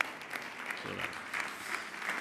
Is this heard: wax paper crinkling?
no